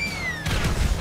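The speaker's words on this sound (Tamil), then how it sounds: "அதை தூக்கி போட்டா வெடிக்குது." An object thrown in GTA 5 explodes: a short boom bursts out after a fading whistle-like tone, with a loud crackling blast tail lasting under a second.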